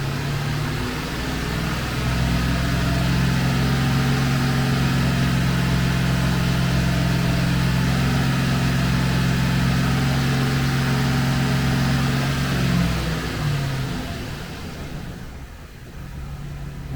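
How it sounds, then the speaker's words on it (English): A blue GMC car engine revs under electrical load during a battery-charging test, holding a loud, steady hum with a low drone for about twelve seconds before easing down, with no talking. "if I can load it and rev at the same time"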